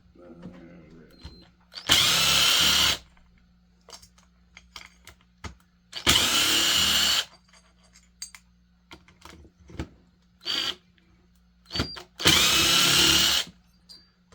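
Power drill backing screws out of a saw, three loud, close whirring bursts of about a second each, separated by pauses filled with small clicks and handling noises.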